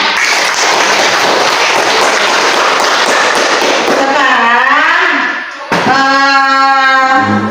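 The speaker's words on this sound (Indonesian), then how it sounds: "Tepuk tangan." Hands clapping in a classroom, a dense loud burst of applause lasting several seconds, then fading as a voice takes over with tonal speech.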